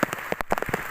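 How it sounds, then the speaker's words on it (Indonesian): Rain pattering on a surface at a coffee-garden shelter on a mountain trek, with close, irregular drops striking for under a second, loud and alone. "Hujan."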